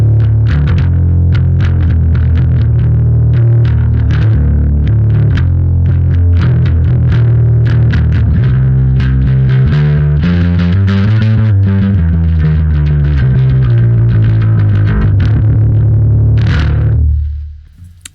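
Bass guitar through a Neural DSP Darkglass Ultra distortion plugin with the drive turned down, a steady, loud, gritty riff of repeated low notes played continuously for about seventeen seconds before cutting off, with no talking.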